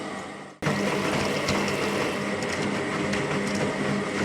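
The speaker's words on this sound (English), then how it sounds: "Let's flush the water out." Water flushed out of a LEGO water beads machine, a sudden onset of steady rushing, gushing flow with a faint mechanical hum underneath, continuing loud and even until the end.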